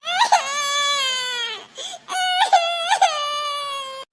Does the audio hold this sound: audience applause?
no